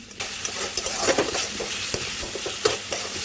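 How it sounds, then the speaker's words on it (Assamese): Dry ground masala spice powder frying in a pan for sesame chicken, a steady close sizzle with soft stirring scrapes throughout and no talking. "তাৰপিছত মই এইখিনি মছলা দি দিম, শুকান গুড়িখিনি দি এইখিনিও মই ভালকৈ ভাজি লৈছোঁ"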